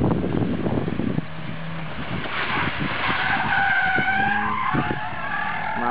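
Car tyres skid and squeal through a handbrake 360 spin on a safe driving course, a continuous loud scraping screech with engine and wind noise, rising in pitch toward the end.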